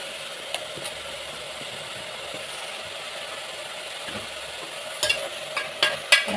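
Chopped mushrooms sautéing in a pan for mushroom gravy give off a faint, steady sizzle, with a few sharper scrapes and clinks of stirring toward the end.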